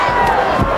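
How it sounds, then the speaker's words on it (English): Stadium crowd at a 1994 high school state championship football game, roaring and cheering on a fourth-and-inches play, loud and continuous with a couple of brief surges. "Crowd will pretty much tell you the story."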